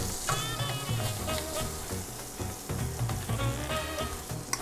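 Tilapia fillets with squid ink and coconut cream fry in a hot pan, giving a steady loud sizzle with crackling pops throughout, close up and with no talking.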